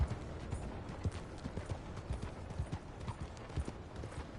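Horse hooves clip-clop at a steady trotting rhythm in a PS4 game, close and moderately loud, with ambient game sound underneath and no voices.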